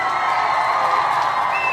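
Audience cheering and crowd noise at a live community toast event, a dense steady roar of voices and whoops held at even loudness throughout, with only faint clapping.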